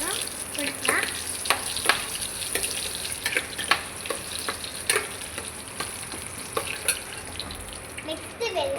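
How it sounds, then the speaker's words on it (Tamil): Ginger and garlic frying in oil, a steady crackling sizzle with scattered sharp pops and occasional stirring scrapes, close but moderately quiet. "நம்ம இப்போ இஞ்சி பூண்டு போட போகிறோம்"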